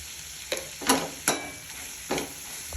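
Ivy gourd (tondekai) with garlic and turmeric frying in a pan for chutney, a soft sizzle broken by a few sharp stirring scrapes spaced apart, quiet and close with no talk.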